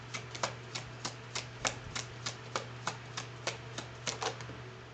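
Rapid, rhythmic riffling clicks of cards being shuffled, steady snaps over a low constant hum, fairly close and moderately quiet.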